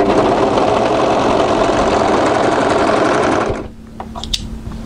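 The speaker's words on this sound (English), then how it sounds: "fold your piece right sides together and overlock this short end" An overlocker sews the short end of a tee neckband in a fast, loud, steady mechanical chatter close by, then stops abruptly near the end, leaving faint handling clicks.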